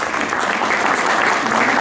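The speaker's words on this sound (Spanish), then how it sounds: "Un aplauso," Steady audience applause fills a hall in honor of José at a ceremony, dense and continuous throughout without any voices standing out.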